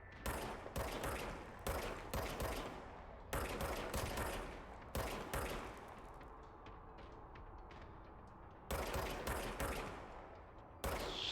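Gunfire from the service weapon in the video game Control: loud, rapid bursts in several clusters, separated by short gaps, with a longer quieter stretch in the middle.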